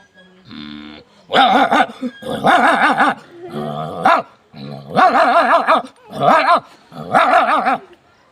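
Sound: man imitating dogs fighting and growling

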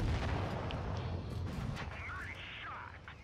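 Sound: tank cannon firing in World of Tanks Blitz video game

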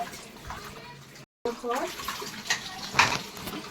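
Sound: washing items under running tap water

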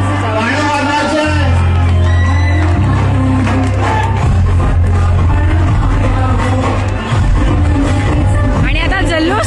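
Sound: crowd cheering at Dahi Handi festival

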